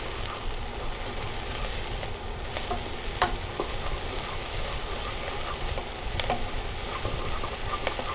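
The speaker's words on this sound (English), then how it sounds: "you can hear them popping now" Small crackling pops of mustard seeds scattered over a steady hiss of frying in a hot pan, fairly close and moderately loud, with no talking.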